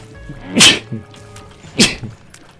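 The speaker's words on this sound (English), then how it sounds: "I'm gonna sneeze." Two sharp sneezes, close and loud, about a second apart, each with a brief breathy lead-in.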